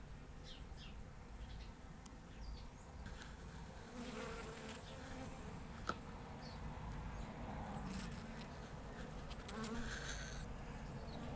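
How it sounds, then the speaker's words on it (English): Steady, dense buzzing of many bees gathering pollen from epiphyllum orchid cactus flowers close by, continuous throughout with occasional louder passes near the microphone. "just a little short video of the bees doing their job."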